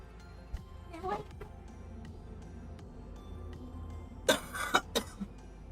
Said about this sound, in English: if all you're gonna do is cough in here